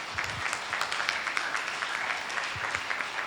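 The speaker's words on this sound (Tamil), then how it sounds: "கைத்தட்டுக்க பார்க்கலாம்." A church congregation at a Sunday service claps hands together, a dense, steady wash of many palms carrying on without pause and with no voices over it.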